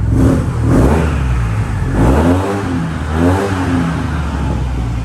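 2020 Yamaha TMAX 560 TechMax scooter revving while parked, a loud, close engine note that climbs and falls through several throttle blips in a row.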